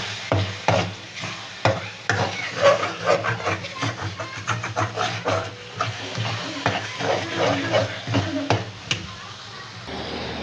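Corn flour halwa, orange-flavoured Karachi style, being stirred continuously in an oily pan, with repeated close scraping and sizzling strokes and a voice talking over it throughout.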